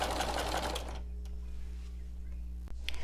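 Sewing machine stitching quilt binding: a dense, fast whirring run that stops after about a second, followed by a quiet low hum and a faint click near the end.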